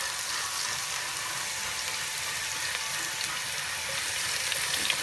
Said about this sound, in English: We're going to brown the garlic and onion.